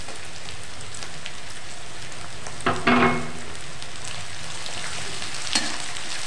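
Green chillies sizzling in hot oil in a pan, a steady loud frying hiss with a brief burst of crackling spatter as they go in, close and without speech.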